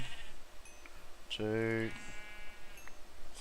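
A Minecraft sheep gives one clear, fairly loud bleat with a harmonic, wavering tone lasting about half a second. A voice counts aloud over game ambience, before and after the bleat.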